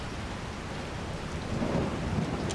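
Thunder from a lightning strike in Resident Evil 4 rumbles low and steady under heavy rain, swelling slightly louder midway, with no talking.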